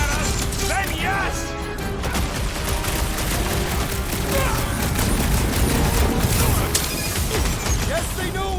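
Gunfire from Nova Corps enemies in Marvel's Guardians of the Galaxy video game, dense rapid bursts and crashing impacts throughout, mixed with game effects and character voices talking over it.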